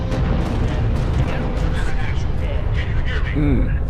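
A large explosion in the video game Halo Reach rumbles with dense, continuous booming and crackling debris, loud and full throughout, with someone talking over it.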